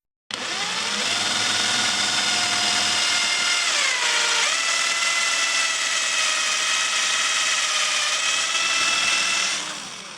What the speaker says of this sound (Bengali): তো খুব সহজে ড্রিল হয়ে গিয়েছে। চলুন আরেকটি করি।